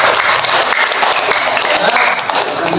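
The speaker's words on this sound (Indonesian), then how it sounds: "Tepuk tangan buat." A classroom of pupils claps together in loud, dense applause that lasts the whole stretch, with a few voices mixed in.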